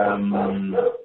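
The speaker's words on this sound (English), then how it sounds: "sorry about the dog barking." A dog gives a single drawn-out, tonal bark or howl-like yowl, close and fairly loud, cutting off abruptly after about a second.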